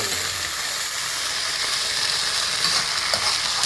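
Smoked fish (tinapa) sizzles in a pan with browned garlic and onion, a close, steady crackling hiss of frying that runs throughout with no talking.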